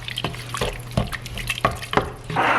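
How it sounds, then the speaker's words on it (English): Water from a can pours into a crock pot holding taco seasoning, a close, steady splashing and trickling with uneven gurgles that swell toward the end, with no one speaking. "I'm gonna throw in a whole can of water"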